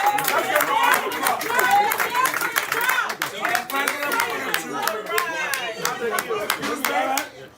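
An outdoor crowd claps for Mr. Cummings at a street gathering in Philadelphia, a dense burst of hand claps and cheering that holds steady for several seconds before tapering off near the end.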